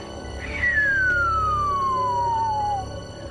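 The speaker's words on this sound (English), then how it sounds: "They're long, kind of descending pitch signals" A long, smooth atmospheric signal slides steadily downward in pitch over a couple of seconds, standing clearly above a low, steady background rumble, recorded at Marfa.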